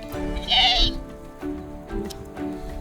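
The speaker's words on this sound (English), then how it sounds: "And a bunch of sheep." A sheep near the bunkers of Northern Jutland gives one clear, wavering bleat close by, followed by quieter bleats and farmyard murmur from the flock.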